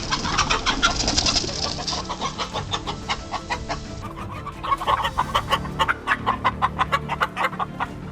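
Chickens on an Oregon chicken farm cluck in quick, rhythmic bursts, several birds close by and fairly loud, with a brief dip partway through before the clucking picks up again.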